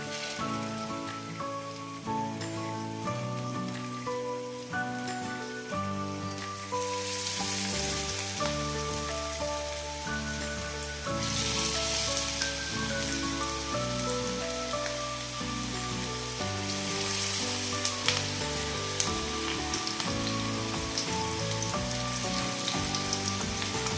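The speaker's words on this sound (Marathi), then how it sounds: "तेल गरम झाले आता आपण पॅनमध्ये वाम घालून घेऊया" Ladyfish (vaam) pieces sizzle in hot oil in a pan, a steady crackling hiss that grows louder and denser as more fish go in, with no talking.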